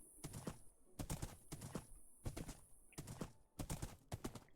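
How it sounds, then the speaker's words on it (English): Horse hooves clopping in the Minecraft video game, a quick repeating patter of bright clicky steps in uneven bursts, close and clear with no talk over it. "This is my underwater horse."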